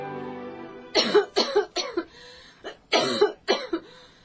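An exhausted, tubercular young woman's coughing fit in an audio drama: a run of harsh, close coughs in two bursts separated by a short pause, loud and ragged with some throat rasp, with no speech over it.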